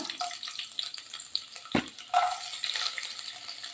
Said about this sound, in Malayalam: അതിലേക്ക് കുറച്ച് വെളിച്ചെണ്ണ ഒഴിച്ചു കൊടുക്കാം. കുറച്ച് തേങ്ങാക്കൊത്തിട്ട് കൊടുക്കാം.